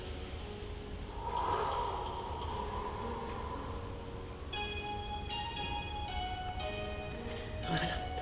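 A deep, drawn-out inhale through the nose during a qigong breathing exercise, close and breathy, with a soft voice and faint background sounds around it.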